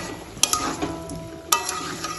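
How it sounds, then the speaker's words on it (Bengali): Fried egg and potato are sautéed in a pan with spice-bowl rinse water. A soft sizzle runs throughout, broken by a few sharp utensil scrapes and knocks as the mixture is stirred. No one speaks. "আবারও ভালোভাবে একটু কষে নেব।"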